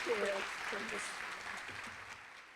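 Audience at an annual transit advocacy meeting gives a round of applause, a moderate patter of clapping that fades out, with a voice briefly heard at the start.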